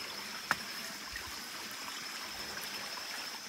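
A forest stream runs over rocks in an old-growth jungle, a steady, soft broadband rush and trickle that stays even throughout, with one brief sharp tap near the start.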